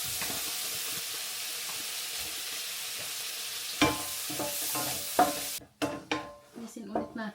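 Shrimp sizzling in a hot pan while being cooked for carbonara, a loud continuous hiss with a few stirring clunks, then the sizzle suddenly drops to scattered pan knocks.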